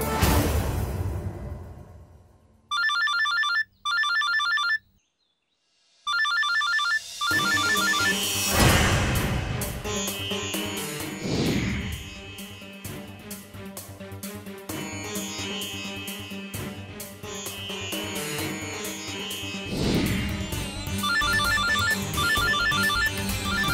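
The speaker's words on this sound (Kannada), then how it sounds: "ನಿಮ್ ಫೋನ್ ರಿಂಗ್ ಆಗ್ತಿದೆ." A phone ringtone plays in a TV serial scene, starting with repeated short electronic beeps and then a longer, fuller melodic ring that carries on loudly to the end.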